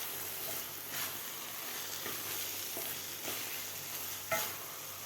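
A spoon stirs carrot halwa mixed with khoa and cardamom powder in a pan, producing soft scraping strokes at a steady rhythm over a faint, continuous sizzle, quiet and close.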